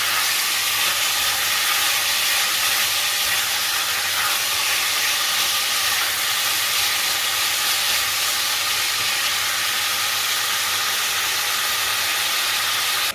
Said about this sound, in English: So we're gonna sear this until it's golden brown